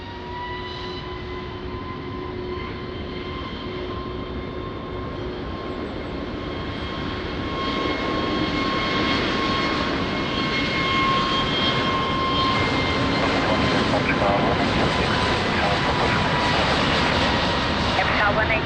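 A fixed-wing airliner approaching runway 20 at Lisbon Airport gives a steady, broad engine roar that builds gradually and grows louder over the whole stretch, with faint radio-style talk beneath it.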